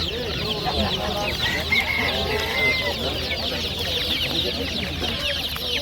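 Many one-month-old chicks chirping together in a dense, continuous flock at a poultry bazaar, near and fairly loud, with faint people talking in the background.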